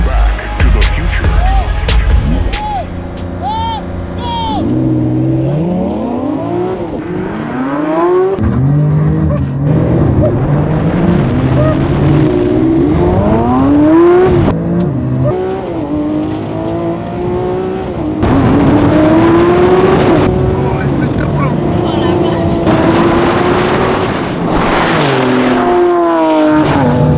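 A Porsche pulls away hard from a race start, its engine climbing through one loud, close run of revs after another as the gears change, staying steady and strong throughout.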